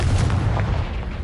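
A loud, booming Confringo blasting spell from Hogwarts Legacy, heavy low-end rumble sustained across the short clip, with no voices.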